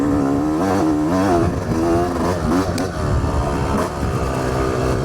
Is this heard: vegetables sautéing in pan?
no